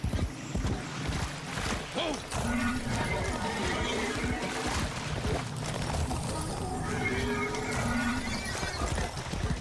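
Horse galloping in the game Warframe, a fast rhythmic clatter of hooves running steadily through the clip, loud and close, with some splashy crashes and a brief whinny-like cry.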